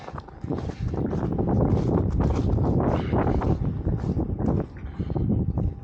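Gusty wind buffeting the microphone with a continuous rough roar that rises and falls slightly, no voices, in chilly weather at Martin Hill Wild Area.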